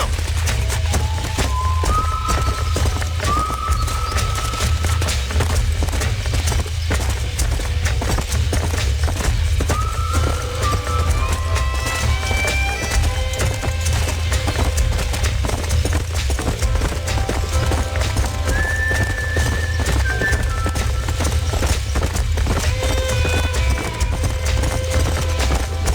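Steady clip-clop of a horse's hooves in the Red Dead Redemption Remastered video game, running on without a break under a loud game soundtrack with sustained melodic tones.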